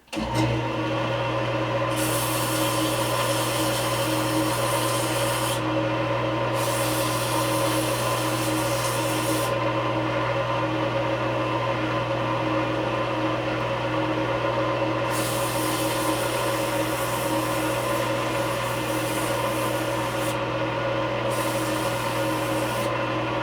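A steady, loud mechanical whir with a constant hum runs throughout, its hissy upper edge cutting in and out, as from a powered sanding tool.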